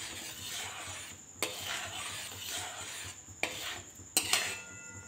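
A sweetened pitha mixture thickened with arrowroot being stirred in a pan, a soft bubbling hiss punctuated by three sharp clinks of a spoon against metal, close and fairly quiet.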